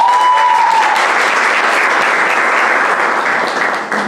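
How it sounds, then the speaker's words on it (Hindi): An audience at a stage event for artists bursts into loud, sustained applause that carries on evenly for several seconds before tapering off slightly. "जोरदार तालियां"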